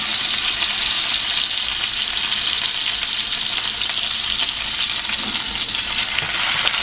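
Beef for Beef Wellington searing in a hot pan, a loud, dense sizzle that holds steady for the whole stretch with faint stirring underneath.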